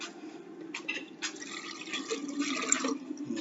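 Cucumber ranch pickle brine is poured into a jar, making a soft, close trickle and gurgle that rises gradually in level over a few seconds.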